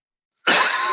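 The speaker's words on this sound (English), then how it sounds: "Sorry, just had to cough there" A single sharp cough bursts out after a short silence, close and loud, with a brief rough tail.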